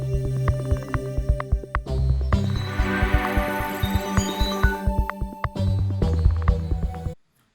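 Forest-area music loop from a Wwise and Unity game demo, a layered rhythmic bed of pulsing low beats and plucked tones that continues steadily for several seconds before cutting to silence.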